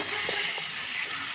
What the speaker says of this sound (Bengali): তেল ছেড়ে গেছে, এই পেস্টটা দিয়ে দিচ্ছি।